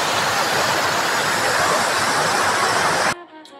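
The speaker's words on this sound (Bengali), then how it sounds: "আর একটা সুন্দর আওয়াজ পাচ্ছ তো, এটা কিন্তু জল, ওই পার থেকে জলটা এই পারে আসছে" Water pours across Murguma Dam in Purulia as a loud, steady broadband rush close by, ending abruptly after about three seconds.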